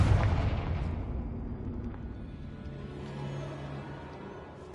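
The Confringo blasting spell explodes in the video game Hogwarts Legacy with a heavy, close boom, and its low rumble fades gradually over a few seconds with no talk over it.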